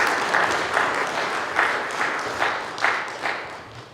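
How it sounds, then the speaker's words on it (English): Audience applause for the Raging Grannies at an Armistice Day gathering, moderately loud clapping with a few stronger bursts standing out, fading toward the end. "Big round of applause for the Raging Grannies"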